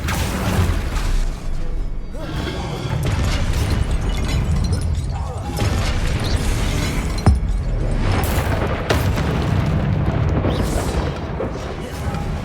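The Confringo fire spell in Hogwarts Legacy goes off in a run of heavy booming blasts and crackling bursts, loud and dense, with the impacts overlapping and sharp cracks standing out.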